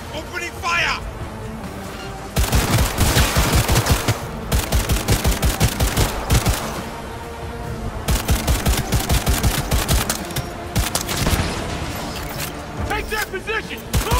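Gunfire in Cyberpunk 2077, with loud sustained automatic bursts and rapid shots packed close together after a quieter opening, while game voices shout over the shooting.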